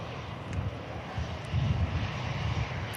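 An EasyJet airliner taxiing at Manchester Airport, its engines a steady low rumbling drone with a faint whine on top, heard from a distance and slowly swelling, with no talk.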